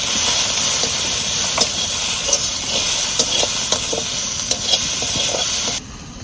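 Garlic and onion frying in hot oil with turmeric, a steady close sizzle and hiss broken by the scrape and clack of a stirring spoon against the pan, continuous until it suddenly drops quieter near the end.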